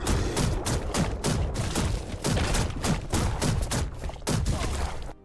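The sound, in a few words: weapon gunfire in Black Skylands video game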